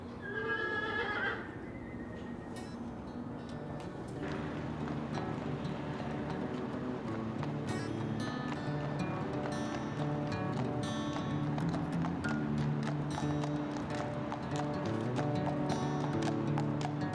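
An Appaloosa horse at a horse auction gives a loud whinny at the start, then its hooves clip-clop steadily on the ground for a long stretch, fairly close and continuous.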